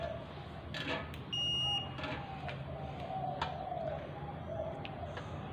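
A multimeter continuity tester beeps in short tones while a rice cooker's live cable and connector are checked during a repair, faint and partly masked by background noise.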